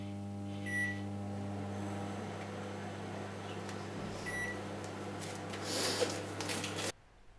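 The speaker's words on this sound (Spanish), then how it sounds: "El tiempo del microondas, por supuesto, dependerá de la potencia de vuestro microondas." Microwave oven running while heating milk, a steady low hum with faint beeps near the start and middle, ending abruptly when it stops.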